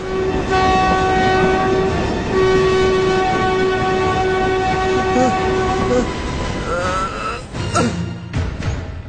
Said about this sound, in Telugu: జోధ్పూర్ నుండి ముంబై వెళ్లవలసిన ముంబై ఎక్స్ప్రెస్ 1వ నంబర్ ప్లాట్ఫామ్ నుండి బయలుదేరుటకు సిద్ధంగా ఉన్నది.